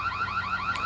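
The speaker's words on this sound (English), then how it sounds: "it has a siren that sounds like this" A piercing electronic siren from a Reolink Argus 4 Pro security camera wails in rapid rising sweeps, repeating quickly and steadily at close range.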